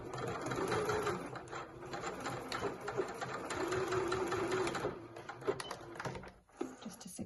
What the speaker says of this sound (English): I'll just sew down the ends of my ties as well